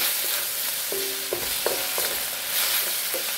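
Kung Pao chicken pieces stir-fried in a hot pan, a steady close sizzle broken by a few sharp scrapes and clinks of the spatula.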